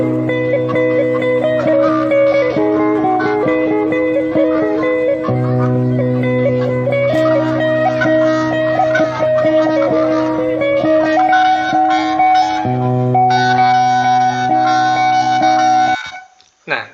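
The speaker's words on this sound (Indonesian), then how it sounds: "Nah, itu tadi bunyi sape dari Kalimantan Barat." Sape, the plucked lute of West Kalimantan, plays a steady melodic line over sustained low drone notes for about sixteen seconds, loud and close, then cuts off abruptly.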